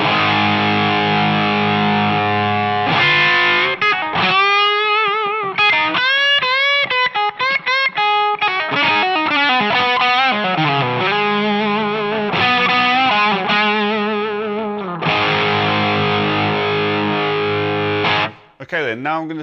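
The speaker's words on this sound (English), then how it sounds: "it's more aggressive and it's got slightly more distortion coming through with some increased harmonic content" Electric guitar through a Sitek Cocoa Overdrive/Distortion pedal, heavily distorted, playing thick, saturated chords and bending lead lines, loud and continuous with brief pauses between phrases.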